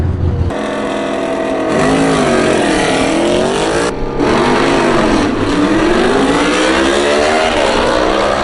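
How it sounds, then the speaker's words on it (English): A Yamaha Vmax motorcycle at a drag race roars close and loud, its engine revving up and down repeatedly with a brief dip midway. "As he rides the Vmax in."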